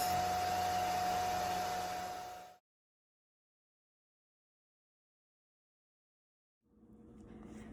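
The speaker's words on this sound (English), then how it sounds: "I let the dryer sit on my hair for about, I want to say 20-25 minutes" A hair dryer blows over hair set on perm rods for a twist-out, with a steady whirring hum and a high whine, cuts off into silence, then starts up again.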